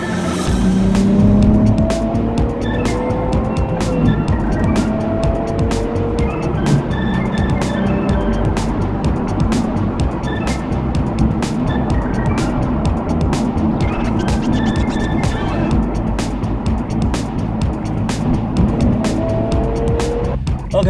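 A car drives steadily on the road with a continuous engine and tyre rumble heard from inside, loud and unbroken throughout, with a few faint tonal sweeps over it and no clear talk.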